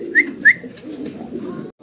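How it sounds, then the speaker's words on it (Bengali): Pigeons on a farm give soft, low cooing calls, with two brief higher chirps near the start over a continuous murmur of cooing, close and moderately loud. "কবুতরগুলা খুব ডাকাডাকি করতেছে"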